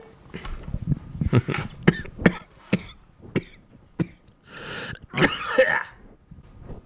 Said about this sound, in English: You should keep that coughing